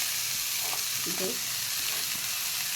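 Finely chopped onion with grated ginger frying in a pan for sarson ka saag, a steady dense hiss of sizzling oil close by with a few faint scraping stirs.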